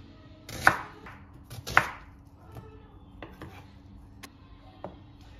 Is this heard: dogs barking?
no